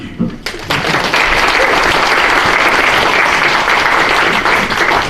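A crowd at a mayoral candidate forum breaks into sustained applause, steady clapping filling the room after a brief opening moment.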